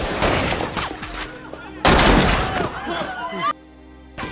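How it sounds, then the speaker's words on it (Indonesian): Bursts of gunfire ring out amid shouting voices, with a sharp loud volley midway and a sudden drop to quieter background near the end. "Satpam dan pengunjung itu langsung memberikan tembakan yang langsung dibalas oleh Tanner hingga menewaskan mereka."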